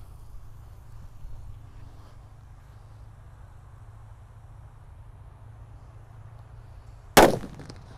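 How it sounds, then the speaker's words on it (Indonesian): A thunder firecracker bursts once with a single sharp, loud bang near the end, after several seconds of low outdoor rumble and quiet. "Selanjutnya di sini ada mercon petir guys yang akan kita nyalakan. Ini yang paling kenceng ya."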